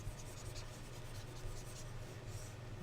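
A whiteboard being erased, a faint soft rubbing and swishing of the eraser across the board, steady and quiet over a low background hum.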